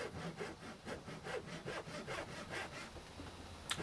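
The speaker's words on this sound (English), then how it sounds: "take out your wood saw and cut multiple times as close to the line as possible" A hand wood saw cuts repeatedly through wood, making a steady rhythmic rasp of about a dozen back-and-forth strokes, close and moderately quiet, with no voices.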